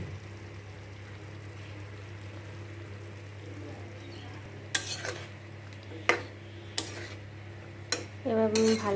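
Turmeric and mustard get stirred in a pan for a low-oil vegetable chorchori, a soft background sizzle under sharp metal spatula scrapes and clinks that grow busier toward the end.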